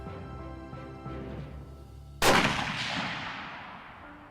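One loud gunshot cracks out during shooting practice and decays into a long rumbling echo, preceded by a low steady hum.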